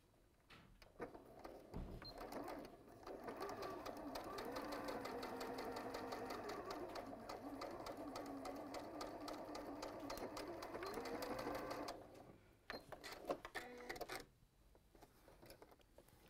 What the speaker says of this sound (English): then sew along that line just like you did last time